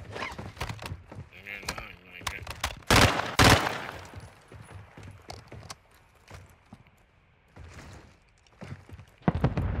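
Gunfire in a Modern Warfare 2 Warzone match comes as sharp bursts of shots and loud impacts at close range, scattered among footsteps and speech.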